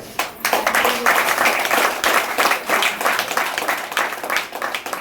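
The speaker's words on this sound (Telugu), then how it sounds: "క్లాప్స్." A crowd applauds steadily for several seconds, dense clapping that holds at a constant level throughout.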